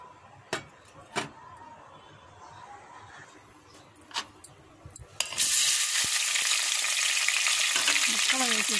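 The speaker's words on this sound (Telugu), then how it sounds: "బాగా ఫ్రై అయ్యేంత వరకు ఫ్రై చేస్తుంది।" Oil heats in a pot on a stove while lentil biryani is being made. A few sharp clicks and knocks come first, then a loud, steady frying sizzle suddenly starts and carries on.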